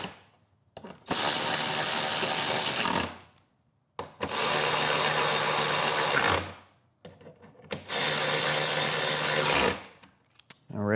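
Three steady whirring bursts of about three seconds each, separated by short pauses, from a tool tightening Torx 27 bolts on the handlebars of a 2024-2026 Harley-Davidson Street Glide, close and fairly loud.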